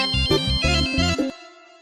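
A phone ringtone plays for an incoming call from a mechanic: a loud, tonal repeating melody of several quick notes over about a second, then a fading tail into silence.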